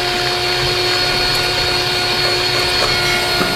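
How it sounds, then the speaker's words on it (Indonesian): An electric mixer whipping eggs and sugar at high speed for a chocolate sheet cake, a loud steady motor whine with a constant pitch, close up and without interruption. "Jadi telur sama gula langsung kita kocok dengan kecepatan tinggi."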